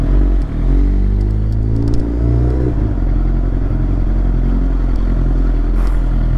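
A 2010 Suzuki GSX-R 750 sport motorcycle fitted with an Akrapovic exhaust, its engine droning loud and close with a deep rumble, a swelling rev in the first seconds, then a steady throaty note.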